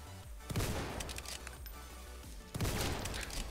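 A few sharp, fairly faint gunshots from the WWI trench-warfare Roblox game Entrenched, two main cracks with reverberant tails spaced a couple of seconds apart against a low background rumble.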